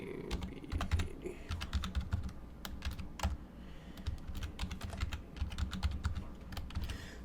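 Password typed on a computer keyboard: dense, continuous clatter of close key presses in quick irregular bursts, fairly loud, with no one speaking.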